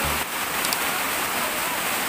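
Rushing water of Tumpak Sewu waterfall, a steady broadband roar close by, with a faint voice briefly over it.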